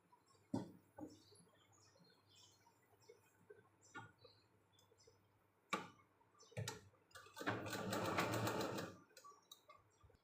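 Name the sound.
sewing machine stitching blouse lining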